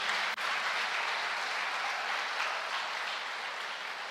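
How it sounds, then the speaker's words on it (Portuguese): A church congregation gives sustained, dense applause for its young people and teenagers, an even wash of many hands clapping at moderate distance throughout, no voices. "Vamos aplaudir nossos jovens e adolescentes."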